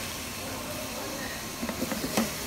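Diced potatoes cooking slowly in a pan for seafood chowder, a soft steady sizzle and hiss with a few faint ticks and pops toward the end.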